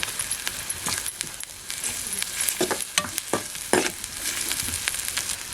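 Koke masala frying with goda masala in a pan over a village wood-fired chulha, a steady close sizzle broken by repeated scraping and stirring strokes, with no talking.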